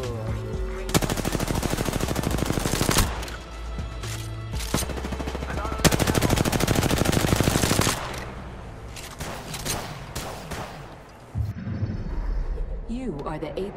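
Long, dense bursts of rapid automatic gunfire from the battle royale game Apex Legends, broken by short pauses and a few single shots, loud and close, with voices talking over parts of it.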